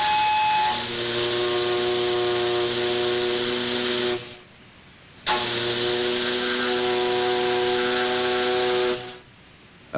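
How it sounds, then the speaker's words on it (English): The steam whistle of the Liberty ship SS John W. Brown sounds two long, loud, harmonically rich blasts, each about four seconds, separated by a short pause with steam hiss. "A patriotic salute from her whistle pays honor to the fort."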